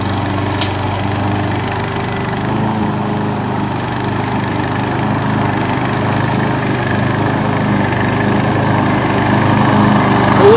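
A remote control lawn mower driving across grass, its engine droning loudly and steadily up close with a constant mechanical hum and no pauses, no voices.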